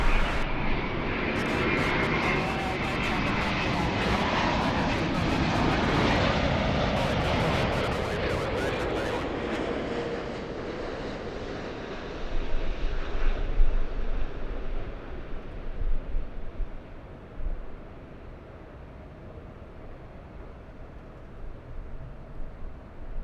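An airliner on Haneda–LAX flight 126 landing at LAX, a loud sustained jet engine roar that fades over the later seconds, with wind noise and a few thumps.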